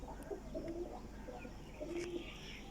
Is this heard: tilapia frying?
no